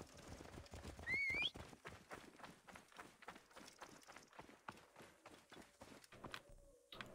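Rapid hoofbeats of a galloping horse in Assassin's Creed Origins pound steadily throughout, with a brief whinny early on, fairly close and loud.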